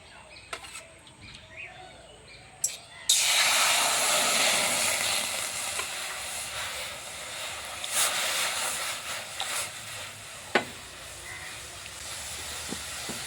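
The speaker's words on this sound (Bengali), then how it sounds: "জলটাকে ভালোভাবে ফুটিয়ে নেব।" Water heats toward a boil in a wok, a steady loud hiss and rush that begins abruptly after a few quiet seconds and continues evenly with occasional faint clicks.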